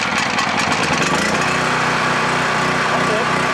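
A portable generator's small engine runs loud and steady just after being pull-started, with a rough choppy patter at first that smooths into a constant drone, close by.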